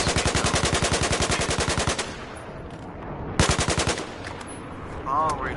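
Carbine rifle in Battlefield 4's shooting range, firing two long fully automatic bursts of rapid, evenly spaced shots, close and loud, with a pause and trailing echo between them.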